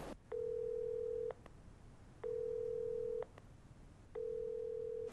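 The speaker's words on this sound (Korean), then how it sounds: "영 전화가 안 되네." A telephone line tone repeats in three steady, evenly spaced beeps, each about a second long with short gaps, quiet and clean over faint room noise.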